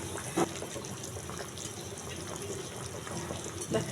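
Rohu fish pieces slipped slowly into a boiling curry with taro: a steady bubbling hiss with a couple of soft splashes.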